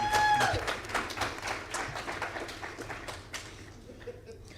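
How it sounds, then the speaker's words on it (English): A conference audience at a tech week event in South Africa applauds panelists, a dense wash of clapping that is loudest at the start and gradually thins and fades over several seconds. "a round of applause to our panelists."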